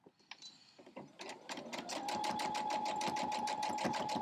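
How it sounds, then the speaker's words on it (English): A sewing machine stitches through fleece and flannel layered over a batting foundation. After a few soft clicks and handling noises, it settles into a steady, close, rapid needle rhythm with an even mechanical hum. "I'm going to sew right down that line."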